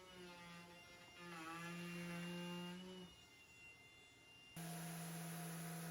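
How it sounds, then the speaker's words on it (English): Random orbital sander on a wooden cutting board, a steady tonal motor hum that shifts pitch as pressure changes, then drops and restarts louder, continuous and close without talking. "I like to sand my cutting boards using 80, 120, and then 180 grit with the random orbital sander."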